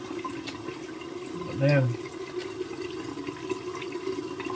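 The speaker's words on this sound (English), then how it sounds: "I'll rinse my face off a little better." A tap runs steadily while a face is rinsed after a shave with an Arko shave stick, a continuous splashing trickle close by, with someone briefly speaking over it.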